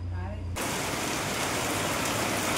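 Heavy rain pours steadily on a Diwali Lakshmi Puja setup at a home, a dense continuous wash of drops; a voice is briefly audible at the very start before the downpour dominates.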